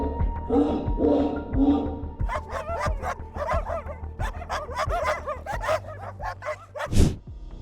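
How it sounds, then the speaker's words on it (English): Dogs bark and yip excitedly near a home in Alaska as they chase off a black bear, a burst of close, rapid barks with whimpers, ending in one louder bark. "loyal dogs have protected and saved their owners' families from danger by chasing them away"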